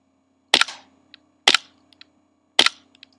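A KWC Desert Eagle airsoft pistol firing three single sharp cracks, about a second apart, each followed by a short metallic slide clack, close and clear in a quiet room.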